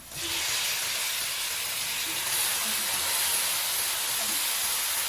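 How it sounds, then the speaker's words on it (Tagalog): Onions go into a hot pan for chicken gizzard adobo and sizzle at once, a loud, steady hiss that holds evenly throughout. "Tapos, ngayon, lagyan na natin yung sibuyas."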